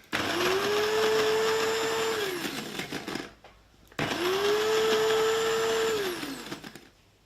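Coffee grinder grinding dried smoked tomatoes into powder, two loud whirring bursts of about three seconds each with a steady high motor whine, separated by a brief pause, no talking.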